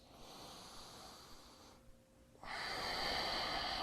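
Steady breathing during a yoga pose, a continuous airy hiss of inhales and exhales, close and moderately loud, with a brief quieter pause before the breath resumes more strongly.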